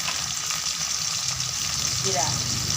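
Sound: garlic paste frying with fish

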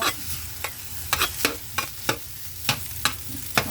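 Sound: stir-frying egg fried rice with chili, carrot and soy sauce

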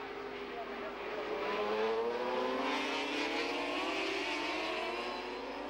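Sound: youngtimer grand prix motorcycles racing in the rain

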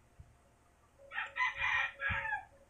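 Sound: rooster crowing

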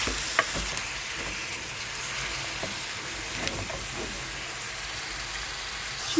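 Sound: stirring mushroom and meat dish in pan

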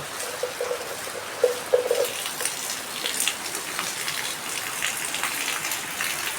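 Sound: heavy rain with water flowing

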